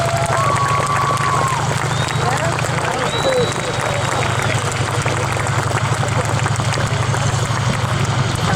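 An outdoor crowd at a Marine event applauds and cheers as Marines march by, a continuous wash of clapping and cheering under a low steady hum, with scattered voices and a few whistles rising above it.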